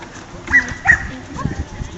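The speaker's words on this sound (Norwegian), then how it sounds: "Der kommer også en hund." At an agility competition in Askim, a dog gives two short yips or whimpers close by while people nearby are talking.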